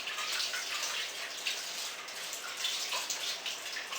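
Water runs from a kitchen tap into the sink while something is washed, making a steady close hiss and splash with small shifts as the flow is interrupted.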